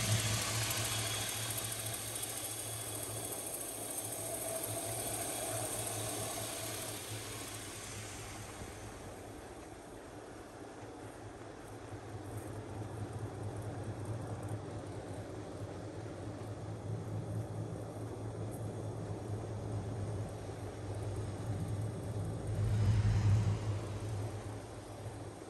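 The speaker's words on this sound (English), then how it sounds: "Engine sounds nice." The engine of a 1967 Chevy C10 restomod pickup idles with a steady, low, even rumble at a moderate distance, swelling briefly near the end.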